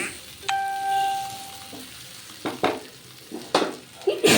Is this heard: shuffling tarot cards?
no